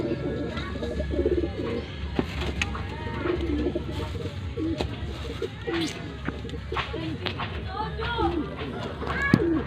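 Pigeons coo repeatedly at close range while feeding on grain, with soft wing and pecking noises underneath and a person talking intermittently.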